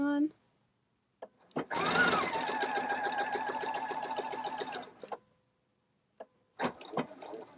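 A PFAFF Performance Icon sewing machine runs a seam in one steady, fast burst of rhythmic stitching lasting about three seconds, close and clear, with brief taps and handling noises before and after.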